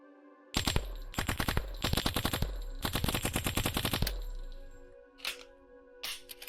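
Rapid bursts of automatic gunfire from a gun picked up in the VRChat world Adrift, loud and close, several quick strings of shots followed by a ringing tail and two short isolated bangs.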